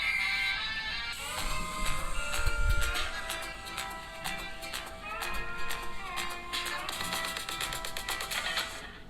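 Music blasts from the stereo speakers of a Redmi Note 12S phone at maximum volume, a dense, bright, continuous stream with beats and melodic tones filling the room, with no talking over it.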